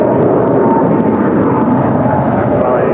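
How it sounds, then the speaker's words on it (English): A nine-year-old Philippine Airlines Boeing 777-300ER jet departs LAX for Manila, its engines giving a loud, continuous broadband roar that stays steady and close throughout. "is Philippine Airlines Flight 113 departing to Manila. It's a 9-year-old Boeing 777-300 ER."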